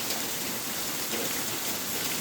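Rain falls steadily at night, a dense, even hiss of drops on surfaces with no pauses and no voices.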